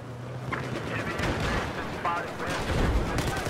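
An AK5C carbine fires in Battlefield 4 in rapid bursts of sharp, close shots at about 700 rounds per minute, with a narrating voice talking over the gunfire.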